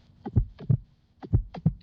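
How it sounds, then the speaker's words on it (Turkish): A steady heartbeat, two paired low thumps repeating at an even rhythm, close and clear with no other sound. "Niye kalp sesimi duyuyorum ki?"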